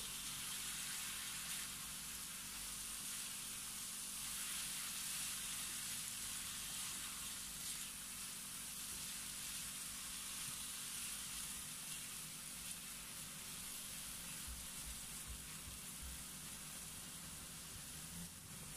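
Sliced bitter melon (ampalaya) stir-fries in a hot pan with a steady, close, hissing sizzle that crackles evenly and never breaks.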